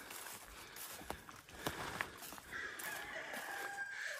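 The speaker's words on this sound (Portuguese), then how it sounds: "Só que a proprietária, ela deixa as galinhas soltas aqui." Free-roaming chickens on a rural property in the Serra da Mantiqueira, scattered clucks and rustling close by, then a rooster crowing in a sustained call over the final second and a half.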